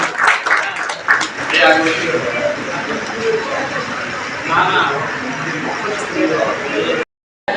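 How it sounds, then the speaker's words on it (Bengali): Crowd applause at a public felicitation ceremony in Tripura, a dense, steady patter of many hands lasting several seconds with a voice speaking over it, then cutting off abruptly near the end. "একটা জোরে করতালি সকলের কাছ থেকে"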